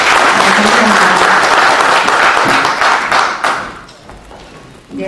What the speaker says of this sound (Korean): 오늘 공로비를 가진 세 분께 다시 한번 큰 박수 부탁합니다